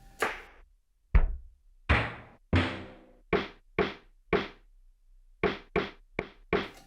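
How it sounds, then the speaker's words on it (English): Single-hit drum sounds from a Casio XW-P1 synthesizer, a sequence of about a dozen separate hits ranging from deep booming thumps to short snappy knocks, each decaying quickly, played alone. "So you can get all the drum sounds here as well."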